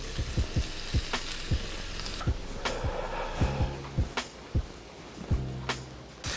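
Shrimp fry in butter in a pan with a continuous close sizzle, broken by regular sharp taps and clacks of a utensil against the pan.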